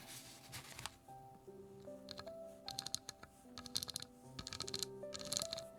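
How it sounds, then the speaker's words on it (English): Close, crisp ASMR tapping on cards during a card reading, scattered light taps in quick irregular bursts over soft background music, with no talking. "Let's get a little ASMR tippy tappies in there."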